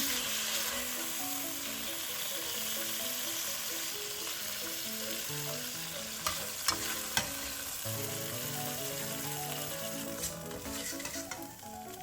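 Shrimp and bok choy stir-fried in sesame oil with a pinch of salt in a hot pan, a constant close sizzle with scraping stirs and a few sharp clinks near the end, no talk.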